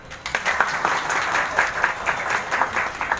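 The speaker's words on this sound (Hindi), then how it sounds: "ताली बजा दो" A crowd applauding steadily, dense clapping filling the whole stretch at a lively, even level.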